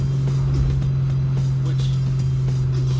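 An LSA-supercharged car runs with a steady low engine drone and a thin whine, heard from inside the cabin as a constant, moderately loud hum.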